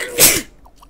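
A single sharp sneeze, loud and close, bursting out abruptly and then cutting off into near silence.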